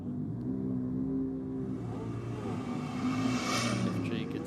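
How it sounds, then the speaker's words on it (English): Two cars, a Ford Falcon FG G6E and an Audi S5, launch side by side at a drag race, their engines revving and rising steadily in pitch, loud and fairly close, with a commentator's voice over the top. "FG gets out pretty cleanly down there. The Audi gives chase"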